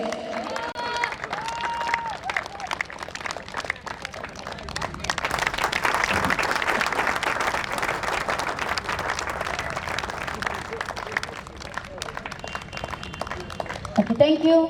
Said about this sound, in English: can we have a huge round of applause for Lohit District?